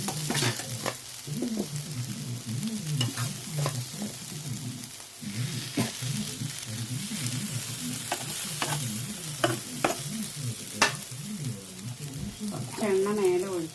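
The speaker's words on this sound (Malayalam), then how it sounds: "ഇതൊക്കെ അങ്ങനെ നന്നായിട്ട് വറുത്തെടുക്കാം" Biryani ingredients frying in oil in a covered pan, stirred throughout: steady close sizzling broken by repeated scraping strokes and clinks of a utensil on the pan, with a voice talking at times.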